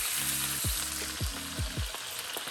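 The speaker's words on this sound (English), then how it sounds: "Add in our white wine." White wine poured into a hot pan holding oregano and capers over low heat, a dense steady sizzle with a low hum running underneath, close and even, no voices.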